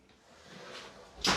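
Cupboard doors in a college apartment swing open with a soft rising swish, then a sharper knock as they come to a stop, close by and fairly quiet.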